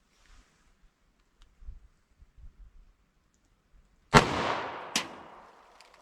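A single sharp, loud 9mm+P Federal HST gunshot from a short-barrelled handgun fired outdoors, its echo decaying, with a second crack just under a second later and a few faint rustles beforehand.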